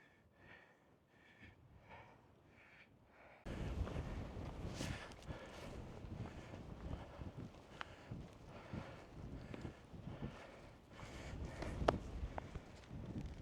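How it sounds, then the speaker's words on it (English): Wind sweeps across the Meikle Bin summit in the Campsie Hills of Scotland. After a quiet start, a sudden gusty, rumbling rush begins and continues unevenly at a fairly low level. "It's a bit windy."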